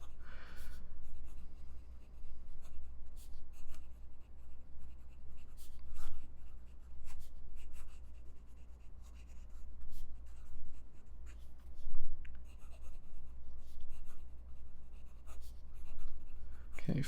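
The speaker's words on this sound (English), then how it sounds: "fast writing" A Tibaldi N60 fountain pen with a broad nib writes fast on paper, giving close, soft scratching strokes in quick irregular bursts over a low background hum.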